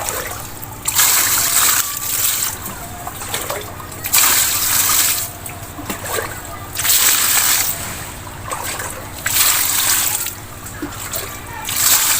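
Water gushes and splashes in repeated surges while dirt is flushed out of a DIY bucket fish filter, loud sloshing bursts alternating with quieter trickling gaps about every two seconds.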